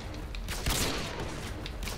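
Video game gunfire, a quick burst of close shots with a sharp crack near the middle, followed by fainter scattered pops over a constant noisy bed.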